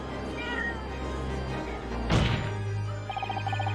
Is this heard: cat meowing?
yes